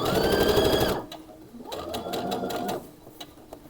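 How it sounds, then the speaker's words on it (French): A sewing machine stitches a kimono top in a close, rapid whirring run that stops after about a second, then starts again for a second, shorter burst after a brief pause. "C'est parti pour la couture."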